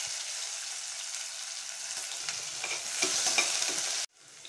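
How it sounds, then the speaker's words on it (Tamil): Onions fry in oil with cinnamon, cloves and cardamom, giving a constant bright sizzle and hiss with scattered crackles and stirring scrapes. The sound cuts off sharply near the end. "அதோட வெங்காயம் சேர்த்து பொன்னிறமாகிற வரைக்கும் வதக்கிக்கோங்க."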